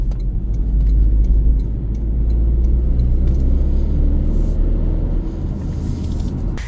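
A 2026 Toyota GR Corolla with a turbocharged engine cruising hard on the highway, heard from inside as a loud, steady low rumble of engine and road noise.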